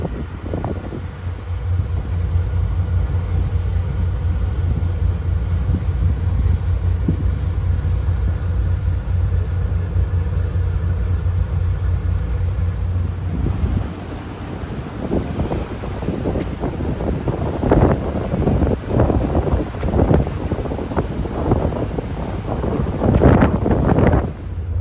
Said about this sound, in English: The old Marinette's chugging along now.